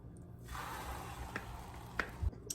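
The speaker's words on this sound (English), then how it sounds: "I'm gonna pour in the egg." Beaten egg poured into a dry, fat-free pan on the highest heat gives a steady soft sizzle lasting about two seconds, with a couple of small pops near the end; fairly quiet, no talking.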